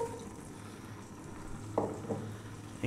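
Leeks tipped into a pot of hot olive oil for a vegan leek and potato soup, giving a steady low sizzle with a couple of sharper clattering bursts near the end, no voices.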